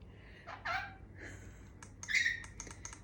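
A pet bird gives a few sharp, bright squawks and chirps indoors, with short bursts separated by brief pauses, loud and close, with no speech.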